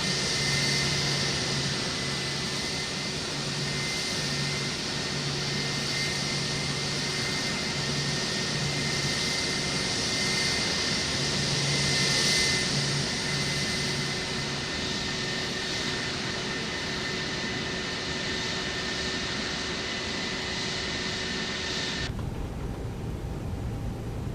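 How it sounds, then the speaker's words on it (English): Airbus A320 CEO jet engines idle and run steadily in X-Plane 12 with one engine warmed up, giving a loud continuous whine and roar with tonal hums. The drone stays unbroken and cuts off near the end. "Looks like engine 2 has warmed up"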